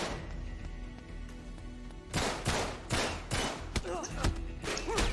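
Gunfire in the video game Uncharted 3: after a low, quieter stretch, a rapid series of loud, sharp gunshot bursts rings out in quick succession, with a few fainter thuds mixed in.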